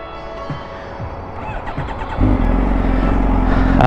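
A super sport motorcycle starts up, with a few starter clicks and whirring cranking before the engine catches and settles into a loud, close, steady idle rumble.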